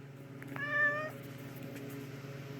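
A pet cat named Munch gives a single clear, close meow, a short rising and falling cry, over a steady low indoor hum.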